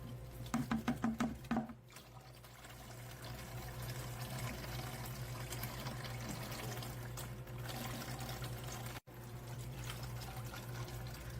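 Liquid running steadily from a soda fountain, a continuous faint splashing flow after a short burst of rattling clicks at the start, with no talk.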